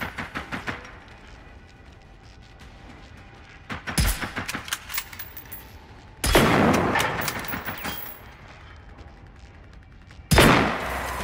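Hunting rifle fire in the video game Generation Zero: three loud, widely spaced shots, each a sharp blast with a long decaying echo, over softer clicks and background game noise.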